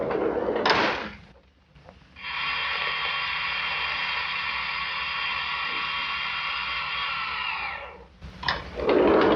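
A radio-drama elevator ride: a sustained mechanical hum with a steady whine sets in after a brief pause, runs evenly for about six seconds, then stops, with rustling movement and brief clatter at either end.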